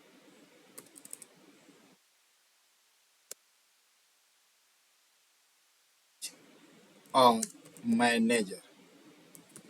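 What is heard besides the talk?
typing on a computer keyboard in Excel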